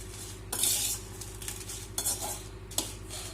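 Dry red chillies roast in a kadai, a metal spatula scraping and clanking against the pan in several sharp strokes over a faint steady sizzle, with no one speaking.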